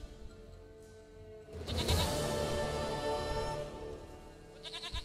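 A goat in The Witcher 3 video game lets out a drawn-out bleat, fairly close and alone, over a quiet ambient background with a short faint call at the end.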